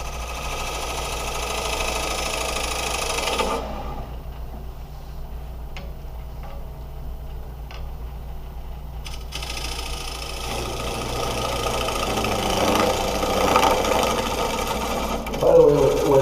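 A wood lathe spins down while a bevel is turned into a curved piece, giving a steady mechanical hum that drops to a quieter whir midway and then rises again, with faint tool contact and some light talk over it.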